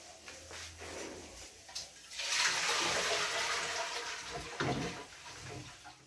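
Several liters of water poured into a dough mixer for coxinha dough; a faint rustle swells into a sustained splashing gush for a few seconds, then tapers with a brief second surge near the end.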